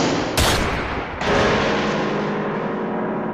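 Cartoon gunfire sound effect in a Star Wars parody cartoon: two loud, close blasts, the second ringing out in a long decaying burst.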